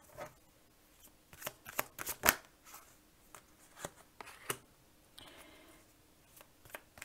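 A deck of cards, apparently tarot or oracle cards for a love reading, is shuffled by hand in soft riffling bursts and taps, faint and close, with brief pauses between.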